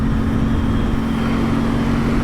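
A 2021 Aprilia Tuono 660 motorcycle engine drones steadily while riding, a constant buzzing hum blended with rushing wind, with no breaks or pauses.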